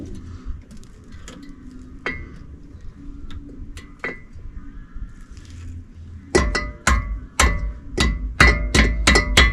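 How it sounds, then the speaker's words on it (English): Sharp metallic hammer taps on a Jeep TJ axle part during a Yukon free spin kit install, a few sparse strikes early, then a rapid run of about eight loud, ringing blows close by. "I'm going to tap it with a hammer"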